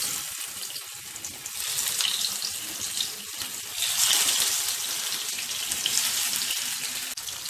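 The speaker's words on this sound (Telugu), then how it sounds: "నూనె వేడైన తర్వాత ఇప్పుడు ఈ చేప ముక్కలను ఫ్రై చేసుకుందాం." Bangda fish pieces fry in hot oil in a pan on a stove, giving a steady, loud broadband hiss and crackle that swells midway and holds throughout, with no talking.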